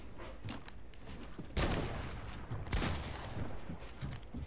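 Fortnite gunfire in two loud bursts of rapid shots about a second apart, with fainter scattered fire and game noise in between, up close and without talk.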